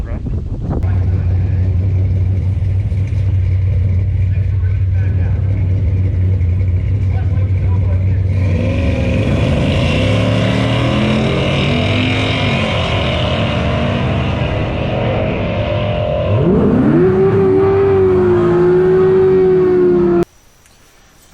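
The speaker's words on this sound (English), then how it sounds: "I'm going to do the burnout, see how it feels, and then we'll make a little bit of a pass" Chevrolet Nova drag race car doing a burnout at a race event: a low idle rumble, then a sudden loud roar of the engine held at high revs with rising pitch, a brief shift, and a final sharp cutoff.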